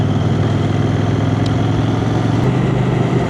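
A CFMoto 800NK naked motorcycle engine runs steadily at a low, rumbling pitch while riding, close by and continuous, with no voices.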